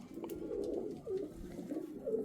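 Pet pigeons cooing on a rooftop loft with cages, soft repeated low coos overlapping in a close, calm rhythm.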